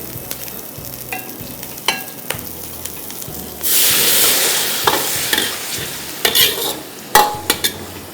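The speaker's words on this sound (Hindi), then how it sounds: "अब इसमें स्टॉक ऐड करेंगे।" Stock poured into a hot pan of stir-fried beef for a Szechuan-style dish, with a burst of loud hissing sizzle, then spatula scrapes and metal clanks as the food is stirred, and no talking.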